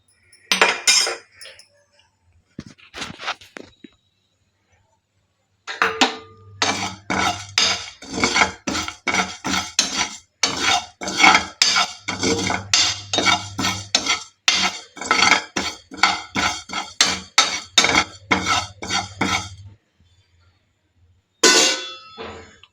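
Ingredients for a weight-loss powder are dry-roasted in a metal pan, with a spatula scraping and clanging against it in rapid rhythmic strokes over a long stretch, framed by a few isolated knocks and short pauses.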